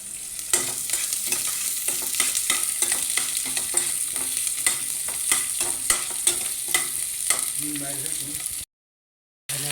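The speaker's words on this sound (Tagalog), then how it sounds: "Para mag-isa na tayo ng luya, bawang, sibuyas." Ginger, garlic and onion sizzle in a hot pan while a utensil stirs and scrapes repeatedly, a steady close frying hiss with rhythmic clinks.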